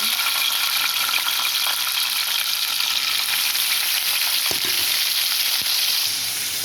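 Halved green chillies sizzle loudly in a generous pool of oil for a mint, coriander and tomato chutney, a dense steady crackle throughout with a couple of brief clicks near the end.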